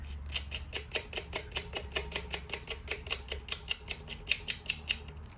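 Nut being tightened onto a rock tumbler bowl, producing a steady run of about two dozen close, crisp metallic clicks that grow louder toward the end, with no talking.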